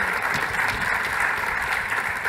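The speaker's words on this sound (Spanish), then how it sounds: "aplauso para nuestros invitados" Conference audience at an insurance industry event applauding the guests, a sustained even wash of many hands clapping, steady and fairly loud from start to end.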